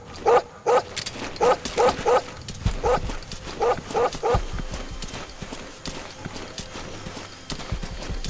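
A dog barks in the video game Metal Gear Solid 5, a series of about a dozen loud, evenly spaced barks in a steady rhythm over busy game background noise.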